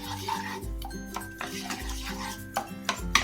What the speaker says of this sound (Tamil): கொஞ்சம் கொஞ்சமா மில்க சேர்த்து சேர்த்து நீங்க கிளறி விட்டுட்டே வாங்க